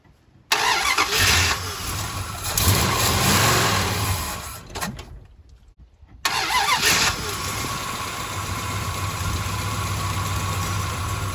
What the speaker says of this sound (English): The engine sounds so good. I'm not hearing any knocking.